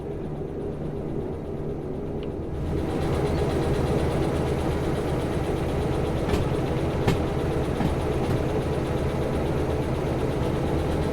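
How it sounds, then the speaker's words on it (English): A train locomotive engine from the video game Derail Valley runs steadily with a low, droning hum. It grows a bit louder after a couple of seconds, then holds an even level with no talk. "The engine sounds really good"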